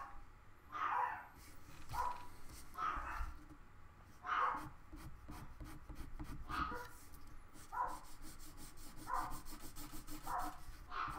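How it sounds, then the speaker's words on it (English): Dogs indoors barking at someone outside, repeated sharp barks at irregular intervals, somewhat distant, over soft rubbing and scratching sounds from pencil drawing. "My dogs must hear somebody outside, or there's a delivery or something."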